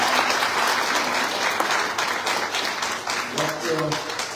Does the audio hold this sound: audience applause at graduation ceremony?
yes